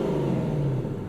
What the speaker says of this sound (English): It sounds so good when you start it up. It kind of gives you a little bit of a rev on startup.